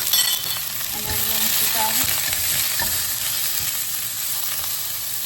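Onion and shredded pork stir-frying in a pan give a steady, fairly loud sizzle with occasional scraping of the stirring utensil, while a person talks briefly over it.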